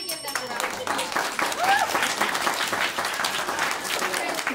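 An audience at a student showcase on stage gives a round of applause, a continuous crowd clapping that holds steady throughout, with faint crowd noise and a voice speaking over it.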